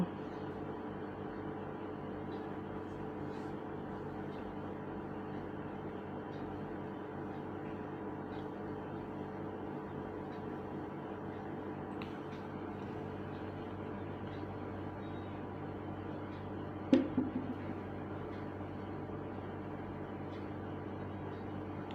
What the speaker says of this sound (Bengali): দিয়ে আমি মিক্সি করে নেব